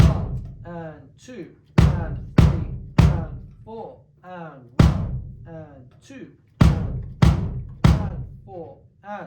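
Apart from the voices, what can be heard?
bass drum playing a beat pattern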